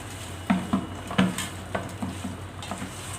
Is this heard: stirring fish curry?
yes